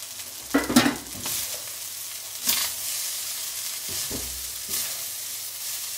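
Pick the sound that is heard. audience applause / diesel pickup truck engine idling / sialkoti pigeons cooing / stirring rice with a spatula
stirring rice with a spatula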